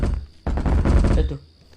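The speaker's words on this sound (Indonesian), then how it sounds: "Suara tembakan, buset." A rapid burst of gunfire in the horror video game Kopdes Horror lasts about a second, loud and close, then fades into a quiet tail.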